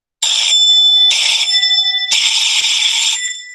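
A presentation timer buzzer sounds three times in bursts, loud and shrill with steady tones, the last burst longer than the first two.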